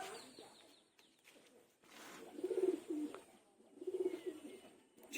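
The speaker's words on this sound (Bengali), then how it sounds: "খুব সুন্দর পায়রা" A female pigeon coos in a few low, throaty bursts, the clearest two coming mid-clip and near the end, close by over a quiet room hum.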